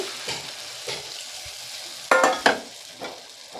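A spoon stirs puti fish curry masala in a pan just after water is added, giving soft wet scraping and a couple of sharper pan knocks near the end, close and with no voices.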